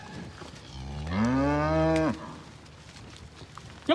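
A single long, deep moo from a cow, fairly close, rising then holding for about a second over faint outdoor background noise.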